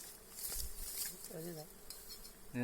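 Bees buzz around a honey harvest in which friends cut comb from a wild hive, a steady close droning hum with brief voices and clatter at moments.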